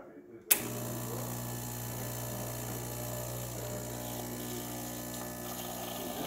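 Gaggia Classic espresso machine running a test shot with a steady pump hum and buzz that starts abruptly after a short click and holds loud and constant throughout.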